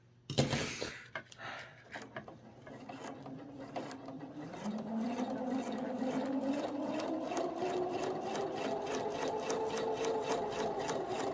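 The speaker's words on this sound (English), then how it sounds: "It's quite strange sewing on this plasticky sheet." A sewing machine does free-motion embroidery on a plasticky soluble sheet, starting with a few clicks and knocks, then settling into a fast, steady needle chatter with a rising motor whine.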